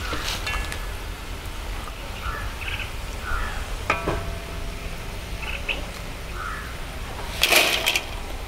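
Jackfruit chips bubble and crackle in hot frying oil with a steady, close sizzle, broken by a few light stirring clinks and a brief louder burst near the end.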